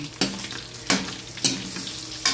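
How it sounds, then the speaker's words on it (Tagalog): Pancit canton noodles sizzle and fry in a pan, with a few sharp stirring scrapes breaking through the steady crackle; no voices. "Ate naglutak ti pansit kanton."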